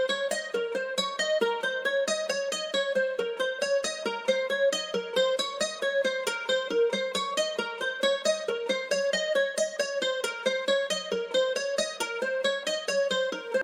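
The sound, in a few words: bouncy guitar melody, smooth guitar preset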